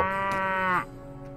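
A single long, loud moo from cattle in the video game Mount and Blade Warband, with a rich, droning tone that drops off sharply near the end, leaving a quiet background.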